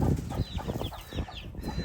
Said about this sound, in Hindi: रियाज ने पहले ही मुर्गी को खोला